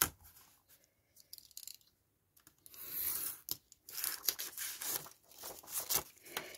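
Paper is cut out by hand to make a corner pocket for a flip-pocket craft, heard as close, faint snips and crisp rustling crinkles in uneven bursts separated by short pauses.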